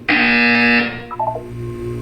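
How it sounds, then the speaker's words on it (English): A loud, steady electronic buzzer tone from the Portal 2 video game, sounding alone for about three quarters of a second, then cutting off into a few faint trailing blips over low room hum. "You will hear a buzzer."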